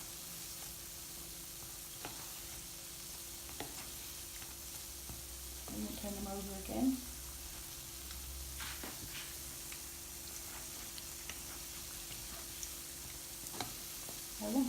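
Dahi barhe, lentil dumplings, fry in a pan with a soft, continuous sizzle and occasional clicks and taps as they are stirred and turned. A voice speaks briefly over it.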